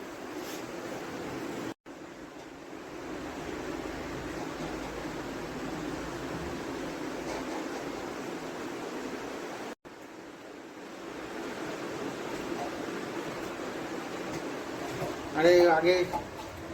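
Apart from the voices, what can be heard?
water pouring while filling an aquarium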